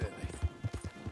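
Brief, close clip-clop of a horse's hooves in the video game Red Dead Redemption 2, about six even, heavy footfalls in quick succession.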